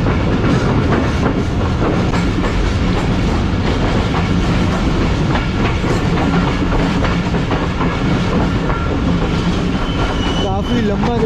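A long parcel express train rolls past on the rails in Pakistan, a loud steady roar with a rhythmic clatter of wheels and a brief squeal near the end. Voices can be heard faintly under the noise.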